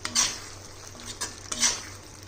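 A spatula scrapes and stirs spice masala with a spoonful of sugar in a pan, three distinct scraping strokes with soft frying sizzle beneath, close and fairly quiet.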